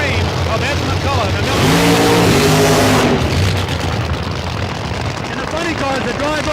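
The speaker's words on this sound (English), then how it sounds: "backing it right in front of us now, Ron Fossil driving the Phoenix, a 1988 Dodge Aries against the Cutlass Supreme of Ed McCullough" A 1988 Dodge Aries funny car and a Cutlass Supreme backing up at a nitro drag race make a loud, continuous engine roar with a rising whine midway, under a commentator's voice.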